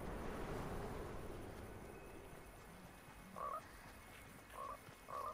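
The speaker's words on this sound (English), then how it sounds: "Frog jumping." Several short frog croaks in the video game Fortnite, sounding in small bursts over a soft steady outdoor ambience with no talking.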